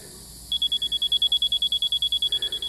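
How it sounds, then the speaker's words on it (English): A laser level beeps in a fast, regular series of short, bright, high-pitched tones, about twenty pulses in quick succession, clear and close over faint background noise at an outdoor foundation dig. "fast, bright beep in a moment."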